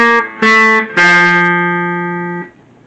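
Electric guitar on a clean tone in standard tuning, playing the intro riff of a song: three loud plucked notes, the last ringing out and slowly fading, with no talk.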